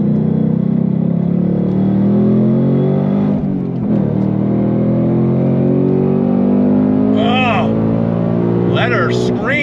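A 2025 Ford Mustang Dark Horse with a 500 hp engine revs hard while accelerating through the gears, a loud droning exhaust note with rising pitch sweeps after a brief shift dip, close to the listener.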